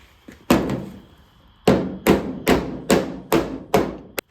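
Hammer blows on a 1987 Camaro Z28 door panel: seven sharp metallic strikes, loud and close, first spaced apart then coming in a steady rhythm with a quick final tap.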